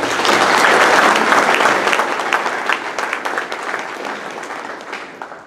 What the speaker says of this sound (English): give us all a round of applause for that